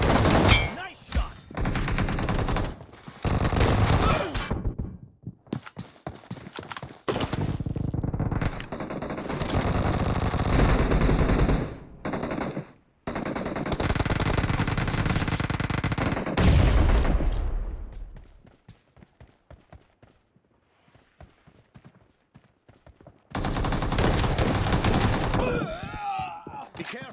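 Rapid bursts of gunfire from the battle royale mobile game BGMI (Battlegrounds Mobile India), with shotguns in play, firing loud and close in clustered volleys, broken by short pauses and a longer quiet stretch before a final burst.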